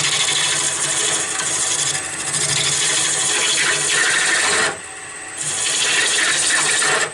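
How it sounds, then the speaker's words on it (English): Spindle roughing gouge cutting a wooden baseball bat on a spinning lathe, a continuous loud, close, rough scraping hiss that briefly dips in the middle before resuming. "Now you can use the spindle roughing gouge if you wanted for this part."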